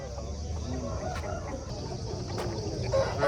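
An Aseel rooster of about four kilograms clucks amid the steady din of a Saturday livestock market in Mydukuru, its short calls sitting over constant crowd and background noise.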